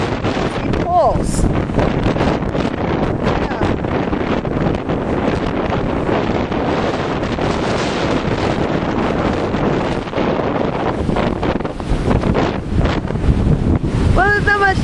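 Strong wind buffets the microphone at Sebastian Inlet, Florida, on a mid-October day, a loud, continuous roar with surf and water noise beneath.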